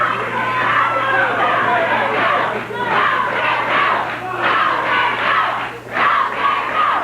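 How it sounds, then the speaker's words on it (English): A 1979 tag-team wrestling crowd chants loudly and continuously for Jerry Lawler, the King, a dense roar of many voices rising and falling in waves, with a steady low hum underneath. "Crowd chanting for the King to go."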